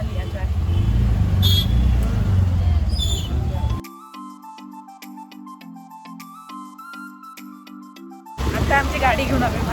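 A scooter rides through road traffic, with loud rumbling road and wind noise at the start and end and a stretch of tonal music in between; voices talk over it.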